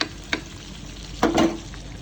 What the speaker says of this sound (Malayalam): ഇവിടെ 4 പീസ് മീൻ പൊരിക്കുന്നുണ്ട്.